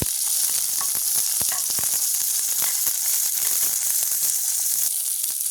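Chopped chili, onion and garlic sauté in a hot pan with a dense, continuous close sizzle, broken by frequent sharp clicks and scrapes from stirring.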